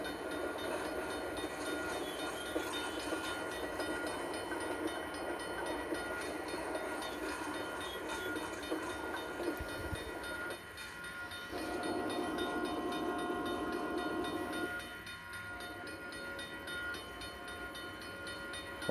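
A train in a rail yard simulator video game rumbles past steadily for about nineteen seconds, a continuous mechanical drone with a brief lull partway through and no voices.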